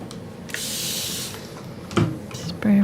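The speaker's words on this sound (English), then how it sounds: "Spray everything really well." A spray bottle mists water onto an acrylic painting in one long hissing burst close up, followed by a shorter spritz, with some light handling noises.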